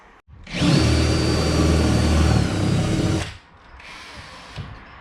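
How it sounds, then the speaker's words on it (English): A power drill whines loudly and steadily for about three seconds, then stops, followed by a brief quieter burst of motor noise, while drilling out a wall panel of an Airstream trailer. "Endless drilling."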